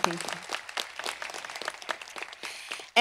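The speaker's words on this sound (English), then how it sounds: "Please give them a round of applause." Applause from a commencement crowd, a dense patter of many hands clapping at moderate distance, steady for about three seconds before a sudden louder burst at the end.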